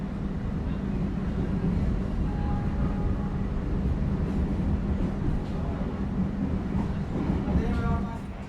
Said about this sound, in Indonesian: kereta api Harina meninggalkan kembali stasiun Tegal